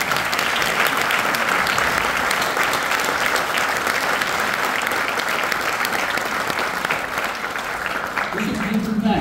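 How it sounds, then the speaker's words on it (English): Sustained, loud crowd applause for a group of sports girls at a speech event in Qatar, steady throughout, with a voice emerging near the end. "Let's give you applause."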